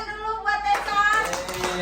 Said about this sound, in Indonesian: tepuk tangan dulu buat Tessa